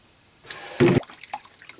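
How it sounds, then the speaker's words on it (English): Lukewarm water poured into a basin for washing crochet work, a short gushing splash of about a fifth of a second followed by a few small drips and trickles in a quiet room. "we're going to put in some water, and we just want to make it lukewarm"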